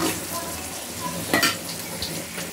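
Onions and coriander fry in a pan with a steady close sizzle, broken by brief spoon stirs and a couple of sharper scrapes against the pan.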